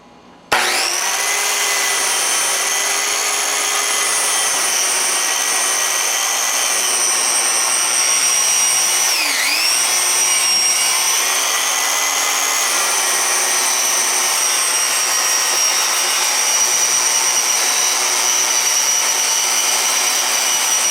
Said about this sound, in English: I'm going to slice the rough cut braces out of the solid brace stock.